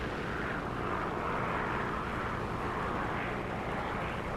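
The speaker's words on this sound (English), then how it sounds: "See all these planes flying over." In War Thunder, airplane engines drone steadily overhead as planes fly past, a broad, even roar with no talk.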